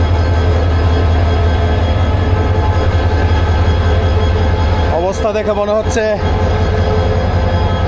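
A Kalni Express locomotive idles at Balla station, its diesel engine droning in a steady, loud low hum, with a person speaking briefly over it partway through.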